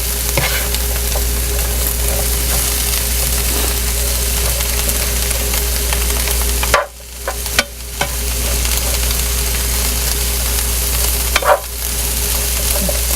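Vegetables being spread and cooked in a pan sizzle loudly and steadily, close up, with brief scraping pauses midway as the portion is pushed around, over a low constant hum.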